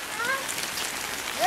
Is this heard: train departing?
no